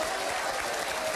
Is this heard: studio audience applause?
yes